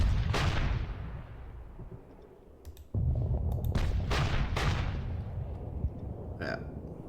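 Heavy guns firing in the Panzer Campaigns Poland 1939 wargame, booming several times in succession. There is one deep cannon blast at the start, then a louder burst of shots and echoing reports, close and forceful.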